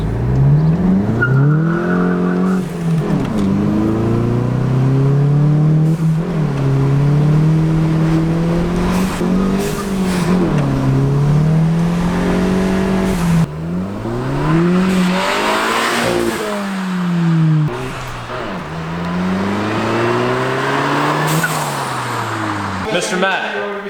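A VW MK7 GTI with an APR cat-back exhaust revs repeatedly, the engine note rising and falling in loud, throaty sweeps with a crackle near the end, close by, with people talking alongside.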